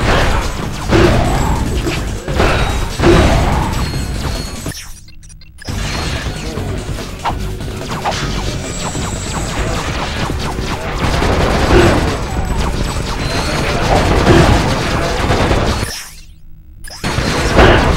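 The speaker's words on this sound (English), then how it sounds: "I think explosions are pretty!" Explosions roar through a Ratchet: Deadlocked boss fight against ancient statues, with loud repeated blasts, crashes and mechanical clatter layered over game music, broken by two brief silences.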